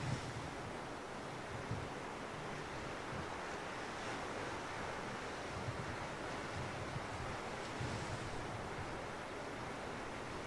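Ocean waves and surf wash steadily onshore, a continuous broadband roar with gentle swells and no speech, some wind noise mixed in.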